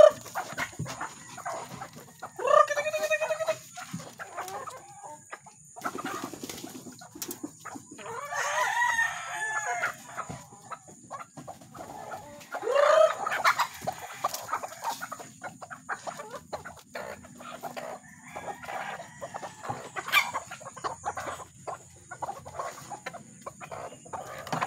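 Backyard chickens cluck steadily at feeding time while a rooster crows several times, the calls close and loud against light outdoor background noise.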